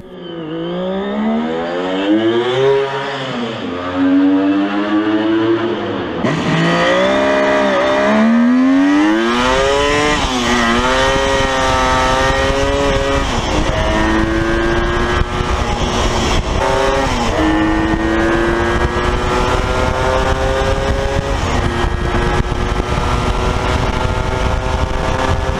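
A Kawasaki Mach 3 motorcycle with an unusual three-pipe exhaust, one pipe on the left and two on the right, revs loudly and repeatedly, its pitch climbing and dropping through gear changes in a close, continuous engine wail.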